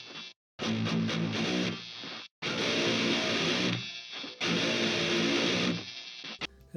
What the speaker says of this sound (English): To start off this song, we're going to be looking at the rhythm guitars, which sound like this.